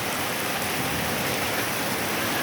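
Rainwater pours off a roof in a steady, dense rush of falling water, loud and close, with no breaks and no voices.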